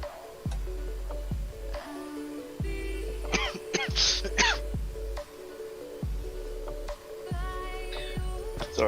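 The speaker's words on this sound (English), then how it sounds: "Sorry, I keep coughing." Someone coughs and clears their throat repeatedly, several rough bursts spread over the span, close and fairly loud over a low rhythmic background.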